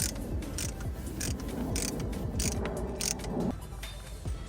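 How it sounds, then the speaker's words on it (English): Brake caliper piston on a 2022 Hyundai Elantra N being pushed back with a tool during a pad change, a steady close-up mechanical grinding and ratcheting with clicking pulses, continuous for several seconds and alone. "So now we're going to start pushing that caliper back,"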